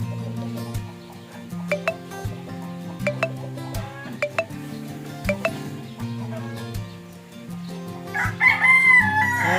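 A rooster crows loudly near the end, over a steady backdrop of layered tonal sounds punctuated by sharp clinking clicks.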